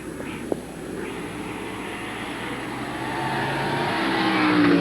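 Stock car engines roar at Midvale Speedway in 1980, a broad droning of several cars on track that swells louder toward the end as they draw nearer.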